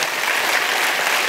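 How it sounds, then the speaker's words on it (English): A church congregation claps together in a brief burst of dense, even applause, loud and continuous with a faint murmur of the crowd beneath. "Give Jesus a hand clap for that."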